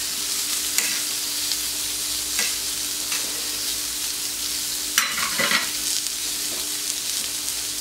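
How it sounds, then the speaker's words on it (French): Green asparagus sizzles steadily on a hot plancha griddle, a continuous bright frying hiss with occasional scraping and stirring clatters as the spears are moved. "C'est génial, les asperges vertes à la plancha."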